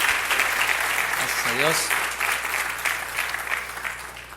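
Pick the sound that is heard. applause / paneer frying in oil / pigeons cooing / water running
applause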